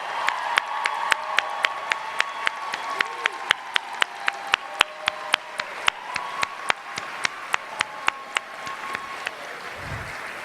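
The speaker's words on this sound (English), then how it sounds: "Let's give them a warm round of applause" An audience gives a warm round of applause for standing staff at a commencement ceremony in an amphitheater, steady clapping with sharp individual claps standing out, sustained throughout.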